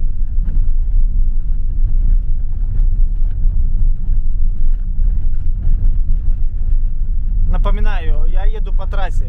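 A Mercedes Vito van drives along the rough, broken asphalt of the R14 highway, giving a loud, continuous low road rumble throughout, with a brief warbling tonal sound near the end.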